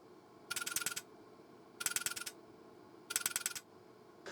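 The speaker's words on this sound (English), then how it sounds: "the relays on here never click when you power the machine on and off, but they do click if you try to dial" Relays inside a Zenith ZT-1 modem click in three evenly spaced bursts of rapid ticking while it pulse-dials, each burst about half a second long, over a faint steady hum and with no talking.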